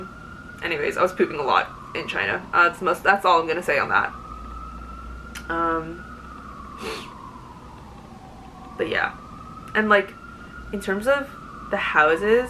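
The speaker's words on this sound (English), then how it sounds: "Sorry for the sirens." An emergency siren outside wails steadily, rising and falling behind a person who talks casually and close to the mic throughout.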